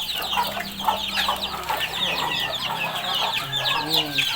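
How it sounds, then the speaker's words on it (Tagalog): Chickens and chicks fill a backyard poultry yard with busy overlapping clucks and high peeping chirps, close and continuous throughout. "So, napakadaming sisiw. Puro sisiw."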